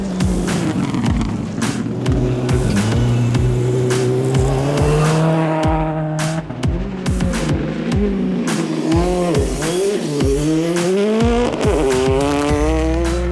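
Rally cars race flat out through a gravel and mud quarry special stage, engines revving hard and rising and falling in pitch as they pass close by, with tyre noise and gear changes filling the whole stretch.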